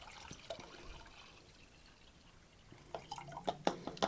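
Water trickles and drips through a hiking water filter while a container fills outdoors, quiet at first, then a run of close, uneven drips and splashes grows louder toward the end.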